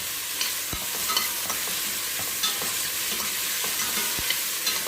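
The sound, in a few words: onions being stirred and sautéed in a pan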